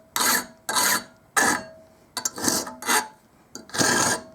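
A file squares off the ends of a steel cold chisel: about seven harsh rasping strokes in an uneven rhythm, close and loud, each stroke a short burst of scraping.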